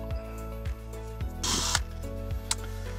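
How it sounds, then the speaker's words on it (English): A small drill bit whirs slowly in short bursts, starting and stopping several times up close, with a brief harsher grinding burst midway. "So I drill slowly with just a small one"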